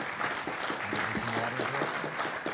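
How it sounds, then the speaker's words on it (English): Audience applause at a Toronto mayoral debate hosted for a commercial real estate association, a steady wash of clapping from a crowd with a faint voice briefly underneath. "Round of applause."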